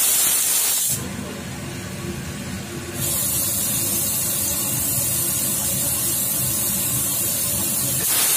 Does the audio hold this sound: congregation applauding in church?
no